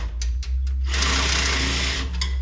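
A long drill bit chews through an aluminum rivet on a 1964 Chevrolet Impala grille: a few short bursts, then a loud, close, continuous buzzing run of about a second before it stops.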